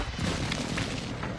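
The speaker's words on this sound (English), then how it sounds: "Oh, airstrike." An airstrike explodes in the video game Call of Duty Warzone 2.0, a loud, continuous roar of blasts and rumbling debris that fills the whole moment with dense, booming noise.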